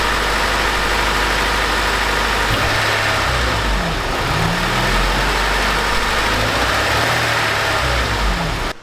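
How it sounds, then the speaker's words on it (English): Honda Civic engine idling after a cylinder head replacement, a steady close drone running slightly high with a mild rise in pitch partway through. "It is idling a little bit high."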